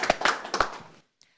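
A short burst of hand clapping from a small group, a few sharp claps over about a second, then quiet.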